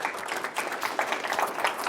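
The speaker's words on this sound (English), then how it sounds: "give Al a big round of applause" A crowd's applause at a talk, a dense, steady wash of many hands clapping throughout the short stretch, moderately loud with no voices standing out.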